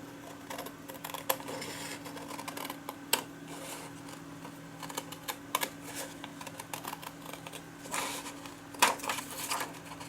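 Scissors cutting out a paper shape, heard as a steady run of small crisp snips and clicks, close by and alone, with some slightly louder cuts scattered through.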